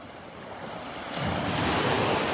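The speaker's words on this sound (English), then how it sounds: "There's some nice little waves breaking right out there over on the sandbar" Ocean waves breaking on a sandbar off a beach in North Naples, Florida, a steady broad surf wash that swells louder midway, with wind noise on the microphone.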